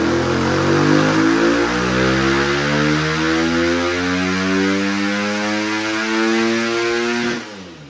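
A Husqvarna FC250 motorcycle engine revs hard on a dyno. Its loud, close single-cylinder note climbs steadily for several seconds, then abruptly cuts off near the end.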